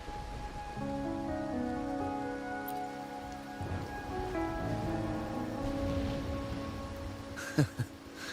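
Steady rain patters on surfaces in a video game scene, a continuous soft hiss beneath layered musical tones, with a couple of sharper knocks near the end.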